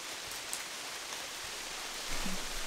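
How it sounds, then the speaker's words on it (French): Steady rain falls outside a rustic chalet near Montreal, an even, soft hiss of drops heard from indoors, with a faint low thump near the end. "c'est super agréable quand on est au chaud dans le chalet de pouvoir entendre la pluie dehors"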